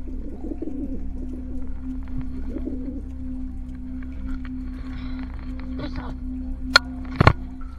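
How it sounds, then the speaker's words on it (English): Pigeons coo in an abandoned tunnel, soft repeated warbling calls echoing close by over a low rumble, with a few sharp knocks near the end. "These tunnels had become the home for hundreds of pigeons, and they weren't budging despite our shouting and kicking near them."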